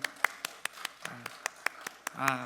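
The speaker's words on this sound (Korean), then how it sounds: "우리 다시 한번 감사의 박수 한번 올려드리십시오." A church congregation claps in thanks during a Korean sermon, a run of sharp, evenly spaced hand claps from a small group, fairly close, with brief bits of voice between beats.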